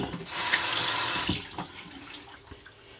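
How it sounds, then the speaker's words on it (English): A makeup brush held under a running bathroom tap, with a loud burst of flowing water for about a second that then fades to quieter trickling and a few soft knocks. "I'm going to wet my brush a little bit."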